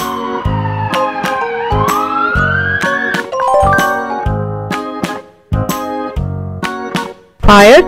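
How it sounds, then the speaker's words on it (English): An ambulance siren wails in rising and falling electronic tones, loud and close, broken into short repeated bursts that are cut up in a children's learning song. "Ambulance."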